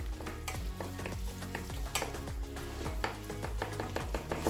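Beef mince sizzling in a hot pan for Nigerian meat pie filling while a utensil repeatedly scrapes and breaks it apart, giving a steady rhythm of knocks over continuous frying noise, close and fairly loud.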